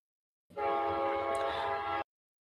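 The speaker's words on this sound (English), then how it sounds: "Hey, there's a train." A passing train sounds its horn in one loud, steady, sustained blast of about a second and a half that starts and stops abruptly.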